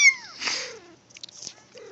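A cat meow played through a phone's cat sound app, a short bright mew followed by softer, thinner cries and faint rustling, close by in a quiet room.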